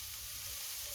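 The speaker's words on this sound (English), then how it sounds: "Just break up the mince and put in there." Mince fries in a pan with a loud, steady, close sizzle that stays even throughout, with no talk over it.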